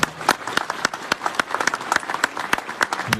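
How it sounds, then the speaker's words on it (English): Scattered, uneven clapping from a small audience honoring security teams at an evening event, distinct individual claps in a loose rhythm over about three seconds, close and moderately loud. "I also to thank our security teams tonight as well, who have given their services, and they deserve a round of applause as well"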